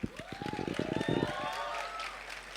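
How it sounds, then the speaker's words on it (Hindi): A quiet round of scattered clapping from the audience at the Rahu Ketu film trailer launch, with a rising whistle cutting through. The claps thin out and fade after about a second, leaving a soft room murmur. "सो इस टीम के लिए एक बार जोरदार तालियां हो जाए।"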